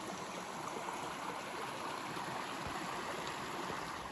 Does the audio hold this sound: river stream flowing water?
yes